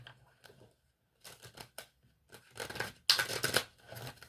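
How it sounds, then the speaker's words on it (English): Crisp papery shuffling and riffling of tarot cards in several bursts, growing busier and louder toward the end, with short pauses between. "That was just a terrible shuffle."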